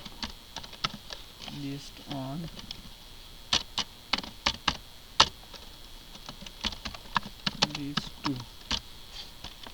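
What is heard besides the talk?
typing HTML code on a computer keyboard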